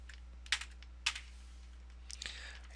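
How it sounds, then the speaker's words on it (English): Typing on a computer keyboard in a quiet room, a few faint, sparse key clicks in small clusters over a low electrical hum. "I'm just going to type this is the footer area"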